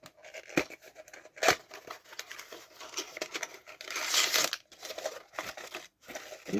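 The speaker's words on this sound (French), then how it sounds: "On va déballer ça. Ensemble. Notre petite boîte." A small box and its packaging are unwrapped close by, with soft crinkling, rustling and tearing of paper or plastic, scattered quiet snips and crackles, and a longer crumpling stretch near the middle.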